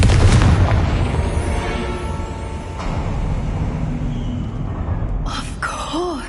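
A Confringo blasting spell exploding in Hogwarts Legacy, a heavy booming blast that rumbles and fades over several seconds, followed by a brief magical shimmering tone.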